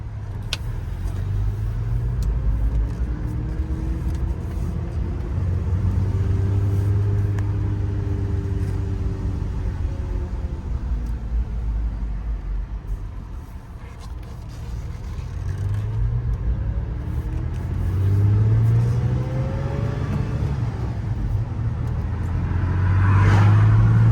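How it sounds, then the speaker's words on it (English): A 2014 Toyota FJ Cruiser on a test drive, its engine rumbling and rising in pitch as it accelerates through the gears, with a dip between shifts, heard from inside the cabin. "we're going to go ahead and take it out for a test drive, guys, and see how it runs"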